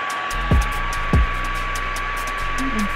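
Small handheld fan blowing air to dry DIY mink lash extensions, a steady broadband whir close by, interrupted by two brief louder thumps of handling.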